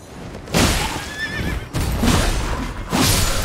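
A horse in the video game Elden Ring neighs loudly with a shrill, wavering whinny, set among heavy combat noise: thuds, hoof clatter and booming impacts in a dense game mix.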